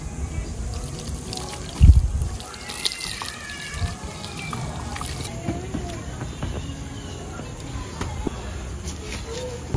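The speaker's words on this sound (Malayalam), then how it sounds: "അതിൽ നല്ല തിളച്ച ചൂടുവെള്ളമൊക്കെ ഒഴിക്കുന്നുണ്ടല്ലോ." Boiling hot water is poured into a pot to cook ugali from maize flour in Congo. The trickle and splash run low under nearby talk, with one sharper splash near the start.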